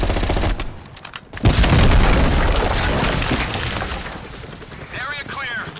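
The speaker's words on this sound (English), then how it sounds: "Just throw a grenade." Dense chaotic gunfire and explosive booms in a Call of Duty Black Ops Cold War battle, including a grenade blast, with a heavy thud about midway amid continuous loud combat noise and overlapping voices.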